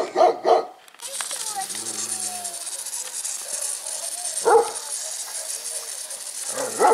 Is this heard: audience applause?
no